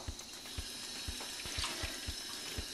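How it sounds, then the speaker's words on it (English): Tap water runs steadily into a laundry room sink and splashes onto a rugged tablet PC's screen, a continuous hiss broken by soft regular thumps, with no voices. "So I'm just running the water onto the screen."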